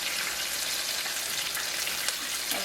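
Chicken pieces frying in hot oil for sesame chicken, giving a steady, dense sizzle with small crackling pops throughout, close and fairly loud with no talking.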